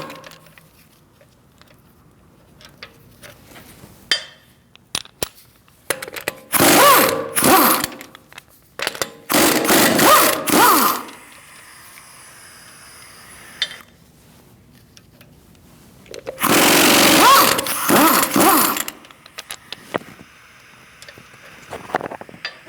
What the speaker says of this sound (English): 17mm socket, we're going to remove our wheel.